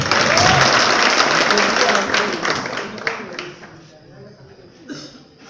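An audience at a university hostel freshers' welcome ceremony bursts into loud, dense applause that tails off into scattered claps, with voices mixed in.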